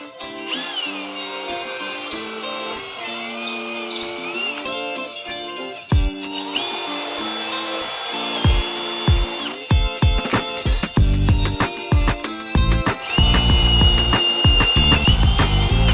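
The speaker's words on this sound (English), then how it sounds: "drill in these holes for the back plate," A power drill bores holes through a boat hull to fit a trim tab back plate, with the motor whining in repeated bursts at close range and sharp broadband grinding toward the end.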